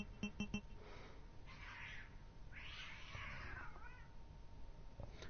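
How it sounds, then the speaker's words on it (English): A cat screams outside, faint and distant, with drawn-out yowling cries. A few short chiming tones come first. "And I heard a cat scream outside."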